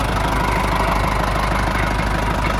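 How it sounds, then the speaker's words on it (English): A tractor engine runs steadily and loudly up close, a constant rumbling drone with no talking, heard while cutting and splitting firewood. "Got the tractor going."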